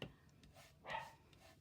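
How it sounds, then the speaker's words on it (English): Faint dogs barking somewhere off in the distance, a couple of brief muffled yaps in a quiet room. "The dogs are barking."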